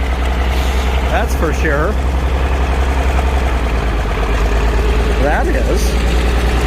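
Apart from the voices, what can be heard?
Farmall tractor engine idling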